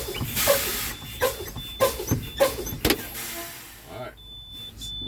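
A truck's air brakes are fanned down to test the spring brakes, giving a rapid series of sharp air hisses and bursts at a fairly even rhythm, close and loud, then a quieter stretch.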